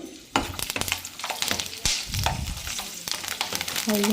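Onions frying in hot oil in a pan while making vendi mirchi chilli pickle, with a bright, continuous sizzle broken by scraping and stirring clatter from a spoon against the pan.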